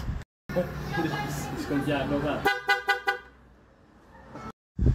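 People talk, then a rewired horn on a Sniper 155 motorcycle beeps in a quick series of short honks, followed by a lull and a brief burst of noise.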